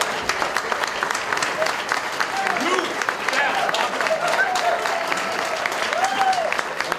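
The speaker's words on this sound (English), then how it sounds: "have all the little people stand up who never get announced and give ourselves a round of" An event audience applauds during opening remarks, with sustained, fairly dense clapping throughout, some voices and a speaker talking over the clapping.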